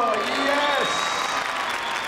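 A crowd cheers and applauds at the Crufts international agility jumping competition, a dense burst of clapping and shouting with a commentator's voice over it.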